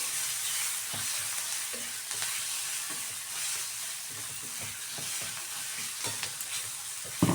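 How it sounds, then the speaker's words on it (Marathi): Spices sautéed with coriander leaves on low heat for bitter gourd curry, producing a continuous gentle sizzle broken by repeated scraping and tapping strokes of a spatula in the pan. "सर्व मसाले व्यवस्थित परतून घ्यायचे"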